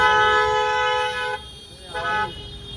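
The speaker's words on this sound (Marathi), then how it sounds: "हॉर्न मारतोय बघा" A vehicle horn honks in a long sustained blast on a road near Siddhivinayak, followed after a pause by a shorter second toot, loud and close, with faint voices in the background.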